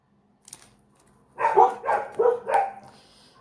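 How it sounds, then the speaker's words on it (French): A dog barks somewhere behind, a small cluster of about four barks in quick succession after a quiet moment, fairly clear but not very close, with no speech over it. "j'ai le chien qui s'aboie derrière"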